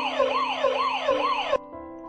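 A British police siren from the video game Mudlarks wails in repeated rising and falling sweeps, loud and close, then cuts off abruptly, leaving a faint lingering tone.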